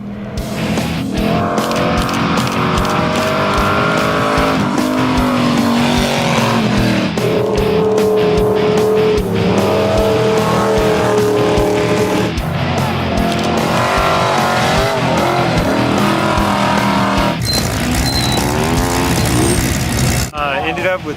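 A Torchmate Racing race car's engine revs and roars at the start of the 2011 Pikes Peak hill climb, steady and loud, while a crowd cheers and a commentator talks over it.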